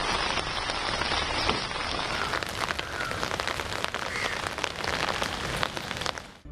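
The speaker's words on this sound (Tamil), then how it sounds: "முன்னதாக ஜம்மு காஷ்மீரின் படேர்வா பகுதியில் மழை பெய்ததால் சாலையில் வெள்ள நீர் ஆறாக பெருக்கெடுத்து ஓடியது" Heavy rain pours steadily in Bhaderwah, Jammu and Kashmir, a loud, continuous hiss of drops on surfaces that holds for several seconds before cutting off.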